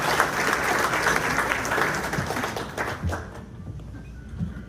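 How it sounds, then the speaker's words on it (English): Applause for milestone members at a Riverside County State of the County morning event, dense and fairly loud for about three seconds, then thinning into scattered claps as a voice comes in. "Let's all give them a round of applause."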